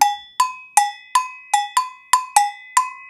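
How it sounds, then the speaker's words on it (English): Bright metallic agogô double bell strikes in a quick, steady pattern alternating between two pitches, each hit ringing briefly, close and clear. "it's just two bells like this, kind of like two different sized cowbells attached by a handle"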